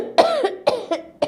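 An old, sick beggar coughs three times in a row, harsh and close, each cough a short raspy burst with a hoarse, throaty tail.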